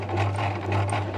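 A domestic sewing machine stitches a curved seam in short, slow steady bursts, its motor hum and needle clatter close and continuous with no talk over it.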